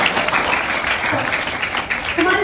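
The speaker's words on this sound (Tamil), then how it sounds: "எல்லாருக்கும் நல்ல ஒரு கைத்தட்டி." Students in a Tamil school classroom clap together in dense, sustained applause during an education day event, loud and close throughout.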